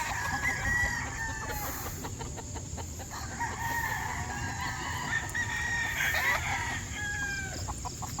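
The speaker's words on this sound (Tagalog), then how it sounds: "Bibisitahin natin yung chicks." Chickens cluck steadily on a farm where chicks are raised, and a rooster crows repeatedly at a moderate distance over a constant outdoor background.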